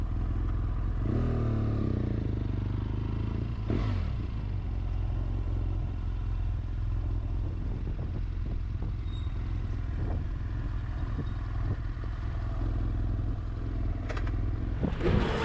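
A BMW F800GT motorcycle engine drones steadily during a ride, recorded from a helmet-mounted camera on an AGV helmet, with constant wind rush and road rumble close around the rider.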